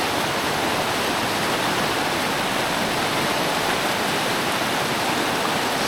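River flowing in a remote rural area of the Philippines, a steady dense rushing of water like a small waterfall, loud and unbroken with no voices.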